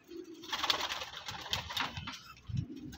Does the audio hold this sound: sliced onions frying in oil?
no